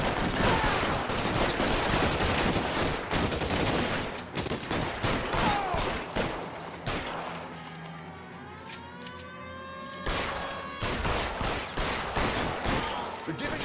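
Heavy shootout in LA Noire, dense rapid gunfire and shotgun blasts crackling continuously up close, easing into a brief lull with a siren-like wail before the firing picks up again.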